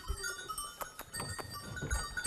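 Goats in an alpine valley pasture bleat faintly at a distance, several short calls scattered among soft rustling and a light cowbell-like clink, ending with a slightly louder bleat.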